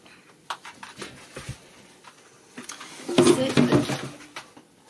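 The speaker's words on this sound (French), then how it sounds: "Il a fait tomber sa gamelle." A dog knocks over its food bowl: a clattering knock and rattle of the bowl hitting the floor, a few scattered clunks followed by a louder burst of jangling near the end.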